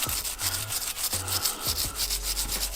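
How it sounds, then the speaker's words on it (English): A nylon brush scrubs the slide of a Shield Plus pistol in quick back-and-forth strokes, making a close, rhythmic rubbing rasp with no voices. "I'm just going to start scrubbing."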